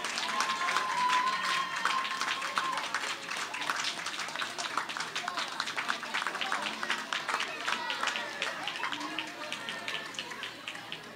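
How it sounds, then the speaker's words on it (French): Applause at a university graduation ceremony, clapping from family and supporters in a large hall, scattered and fairly distant, with a faint tone early and some murmuring voices mixed in. "Est-ce que vous pouvez vous tourner vers eux, vers elles, pour leur dire merci en les applaudissant"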